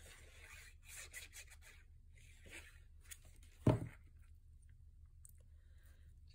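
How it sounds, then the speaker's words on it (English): Bone folder burnishing the crease of folded gingham-patterned paper on a baby boy pocket folio, heard as soft repeated rubbing strokes with one sharper rasp midway, fairly quiet and close. "And I like to burnish every time."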